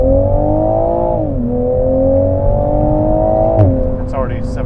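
Toyota GR Supra 3.0 with inline-six engine pulling hard from a launch, a steady loud engine drone rising in pitch, dipping briefly at a shift, then climbing again, with cabin noise throughout.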